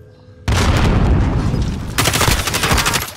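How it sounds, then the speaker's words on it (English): Gunfire bursts out in Call of Duty Warzone: sudden loud booming shots, then sustained rapid fire, with a second dense burst toward the end. "Taking fire!"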